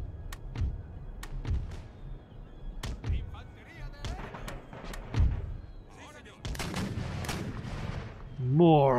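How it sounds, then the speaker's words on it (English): Artillery fire in the Empire: Total War battle game: repeated booming blasts and cracks of cannon and musket fire, some close and some distant, mixed with a speaking voice and battle noise. "More artillery."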